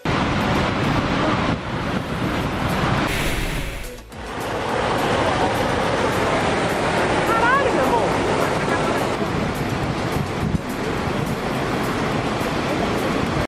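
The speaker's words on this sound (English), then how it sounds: "when these things discharge, the flow of water coming out is absolutely crazy to watch." A dam spillway discharges a huge flow of water as a loud, continuous roaring rush, broken once by a brief dip before the torrent resumes.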